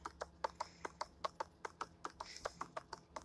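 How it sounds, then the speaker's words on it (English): Horse hooves clip-clopping in a video game, a quick, regular run of sharp taps heard close but quietly, with no talk over them. "Why are your footsteps so loud?"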